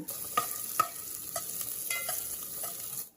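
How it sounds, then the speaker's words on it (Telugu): Onions and green chillies stirred in a hot pan with a steady soft sizzle and a few sharp clinks of a spoon against the pan, no voices. "ఉల్లిపాయలు పచ్చిమిర్చి రెండు కూడా మనం మిక్సింగ్గా చేస్తూ ఉండాలి"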